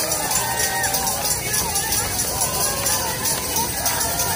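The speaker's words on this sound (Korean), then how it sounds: "큰 박수 부탁드리겠습니다." Crowd clapping for a guest at a Korean citizen-media live event, loud and continuous, with shouts and murmured voices mixed into the applause.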